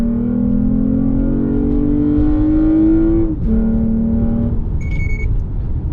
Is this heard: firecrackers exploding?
no